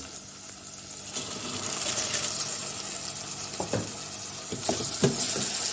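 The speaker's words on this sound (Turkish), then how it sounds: "Mercimeğimi soğanım ve salçamla beraber şöyle 2-3 dakika kavuruyorum." Lentils sautéing in a pot with onion and tomato paste for Turkish lentil soup make a steady, close sizzle, with a few scrapes and stirs breaking through and no voices.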